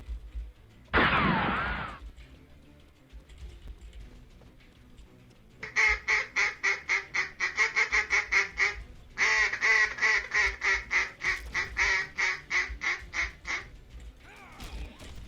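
Ducks quack and honk in rapid, rhythmic bursts inside a video game, two long runs of repeated calls after a brief harsh blast of noise, loud and close with no talking over them.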